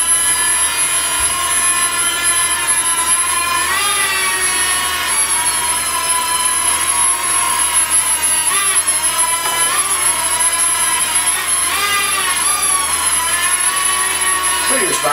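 Toy-sized Air Hogs Star Wars Millennium Falcon drone whirring steadily in flight, a thin high-pitched rotor whine with small pitch shifts as it maneuvers, close and loud throughout, with a person talking over it.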